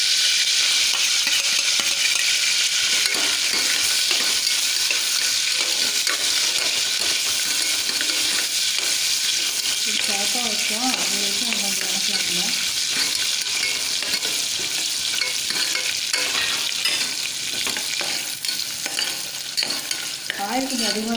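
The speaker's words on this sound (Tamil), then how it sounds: "இந்த பூண்டு எண்ணெயில் அப்படியே விழுந்ததாக அப்படியே வறுத்து எடுத்து வச்சுக்கலாம்" Garlic frying in plenty of hot oil for Chettinad-style vathal kuzhambu, a steady close crackling sizzle that runs throughout, with occasional stirring scrapes and light clinks and no talking.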